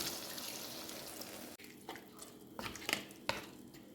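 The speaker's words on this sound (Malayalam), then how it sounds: "ഇനി നമുക്ക് തേങ്ങാപ്പാൽ ഒഴിക്കാം." Thin second-press coconut milk poured into a pan of chicken mappas curry: a soft, steady wet rush for about a second and a half, then scattered drips and small splashes, close and fairly quiet.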